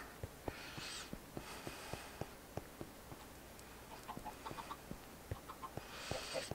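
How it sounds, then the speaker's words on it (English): Minecraft chickens cluck faintly in short bursts, set against a quiet background of regular soft taps like footsteps. "Let me feed the chickens one more time."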